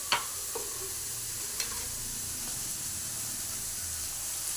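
A curry being stirred as it cooks in a frying pan gives a continuous close sizzle and hiss, with a few sharp scrape clicks near the start and middle.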